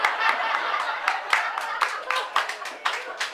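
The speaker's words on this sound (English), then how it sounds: "Thanks for clapping." Audience at a stand-up comedy show claps in a steady, fairly loud wash of applause, with scattered chuckles and crowd noise mixed in, rising in brief surges throughout.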